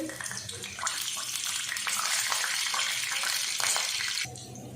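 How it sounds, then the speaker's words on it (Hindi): Steady loud sizzling and crackling of finely chopped garlic frying in hot ghee and butter, continuous for several seconds before dropping off abruptly near the end. "घी और मक्खन गरम हो गया। अब इसमें डाल देंगे ये 3 से 4 जवे लहसुन की हैं बारीक कटे हुए"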